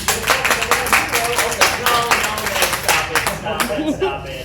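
An audience at a Pride audition performance claps in uneven bursts, with voices and cheering mixed in over roughly four seconds.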